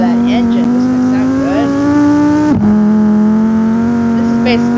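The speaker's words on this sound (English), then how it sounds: "Listen to that engine." Engine of the Cherrier Vivace car in BeamNG.Drive, a loud sustained tone that climbs slowly through a gear, drops sharply at a shift and settles again as the car drives on.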